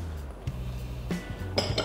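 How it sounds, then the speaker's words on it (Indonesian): Chopped carrots, cabbage, bean sprouts and spring onions for fried bakwan fritters are stirred in a bowl, giving a few light clinks and scrapes over a steady low kitchen hum, close and quiet with no talk. "pertama ini kita campur dulu ya sayurannya"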